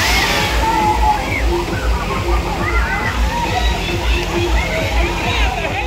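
Water sloshes and pours steadily at a water park, with continuous splashing and rushing that fit a big tipping bucket, while people talk in the background.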